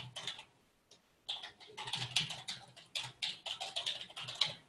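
Rapid keystrokes on a computer keyboard as an email address is typed into accounting software, clustered clicks in quick bursts after a brief pause, close and clear with no talking.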